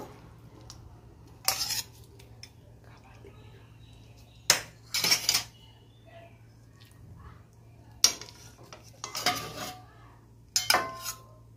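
Plates and serving dishes clatter and clink as fish curry is dished out, several sharp knocks and scrapes in irregular bursts over a quiet room with a low steady hum.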